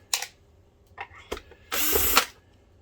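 Electric power driver working screws out of the casing of an Optoma EH341 DLP projector: a few short whirring bursts, then one longer loud spin up close, with quiet pauses between.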